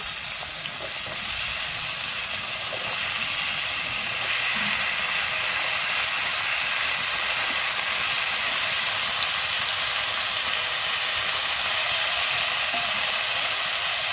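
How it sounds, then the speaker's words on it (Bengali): Chopped vegetables, including turmeric-coated eggplant, hit onions frying in hot oil for a Malabar spinach seed dish, giving a loud, steady sizzle and hiss that swells slightly partway through, with no voices. "এরপরে আমি দিয়ে দিচ্ছি প্রথমে কেটে রাখা সবজিগুলো।"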